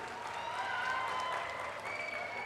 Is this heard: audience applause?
yes